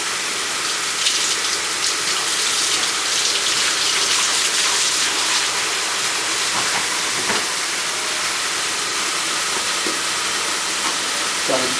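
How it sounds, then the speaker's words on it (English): Tap water running over cut peppers to rinse out the seeds, a continuous bright hissing splash that stays fairly loud and even throughout. "Then I give it a quick wash to make sure I get all the seeds."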